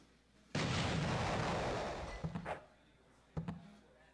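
A grenade goes off in the top-down action game Hotline Miami: a sudden loud blast that fades over a couple of seconds, followed by two smaller thuds.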